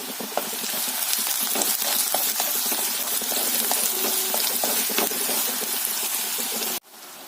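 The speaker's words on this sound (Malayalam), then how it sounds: "ഇനി നന്നായിട്ടൊന്ന് ഇളക്കി ഒന്ന് വഴറ്റിയെടുക്കാം." Sliced onion and two chopped dried red chillies frying in a pan for a green chilli and yogurt curry, a steady close sizzle with occasional stirring scrapes, cutting off abruptly near the end.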